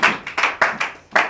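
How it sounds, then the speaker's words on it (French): Congregation in a church service clapping in rhythm, several loud, sharp bursts of claps in a steady beat, close and with no talking. "On acclame le Seigneur."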